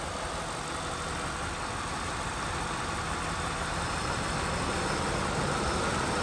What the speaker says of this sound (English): And there it is, Intech 32 valve, dual overhead cam V8